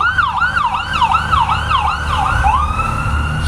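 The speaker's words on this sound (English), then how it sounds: "let's let this damn siren go by" An emergency vehicle siren wails in a regular up-and-down cycle as it passes at moderate distance, loud and steady over low traffic rumble, with no one speaking.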